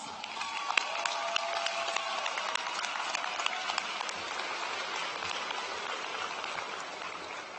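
A large crowd applauds steadily at a high school graduation ceremony as graduates' names are read, a broad, continuous wash of clapping heard from a distance with no voices over it.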